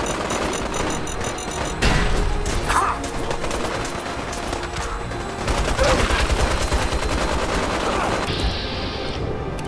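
Rapid gunfire from a bolt rifle in Fallout 4, dense repeated shots in bursts over a constant game soundscape, with some talk faintly beneath.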